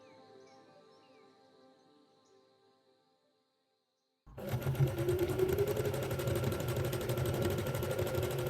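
A sewing machine runs steadily and close up as it topstitches along the facing edge of wide-leg pants, its even mechanical whir starting abruptly after a few seconds of near silence with faint stitching sounds.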